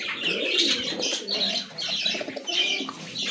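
A pair of racer pigeons with pomegranate-coloured eyes coo close by in soft, rolling, repeated phrases. Bird chirps and brief wing movement sit under the cooing. No one speaks.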